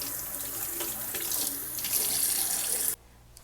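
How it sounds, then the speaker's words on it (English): Tap water runs steadily from a faucet into a sink while kale leaves are washed, a constant hissing splash that continues evenly before cutting off abruptly near the end. "Wash your kale thoroughly."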